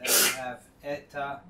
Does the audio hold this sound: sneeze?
yes